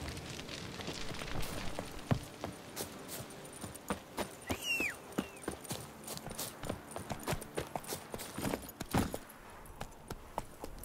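Horse hooves clip-clop steadily in a video game, a continuous run of close, crisp hoof strikes with light jangling over a low background bed.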